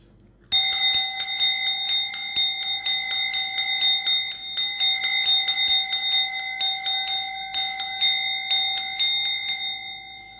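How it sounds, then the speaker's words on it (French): A hand bell rung during a prayer, giving bright metallic strikes repeated in an uneven rhythm for about ten seconds, each ring sustaining and overlapping the next, loud and close with no talking. "Comme je sonne cette cloche, je commande qu'il sorte de votre corps"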